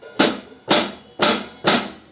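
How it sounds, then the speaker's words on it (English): Hi-hat cymbal on a drum set struck four times at an even, unhurried pace, each a bright crisp wash that fades quickly, close and alone with no talking. "we have the hi-hat."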